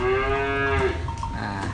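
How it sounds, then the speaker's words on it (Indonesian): A large jumbo Simmental bull gives one loud, close moo, a long low drawn-out call that falls away into a breathy end. "di depan saya ini teman-teman sudah ada 1 ekor sapi simental jumbo yang bernama Eskimo."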